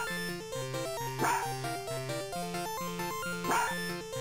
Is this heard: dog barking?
yes